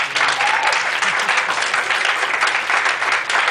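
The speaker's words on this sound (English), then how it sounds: "Let's please give our parents a round of applause." An audience claps in steady, sustained applause for a few seconds, dense and fairly loud throughout.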